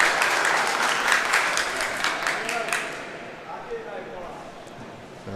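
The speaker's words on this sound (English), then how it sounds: "The crowd shouting" Crowd noise from spectators at an adult handball (softball) final, a dense wash of shouting and clapping for about three seconds that then drops to a quieter murmur.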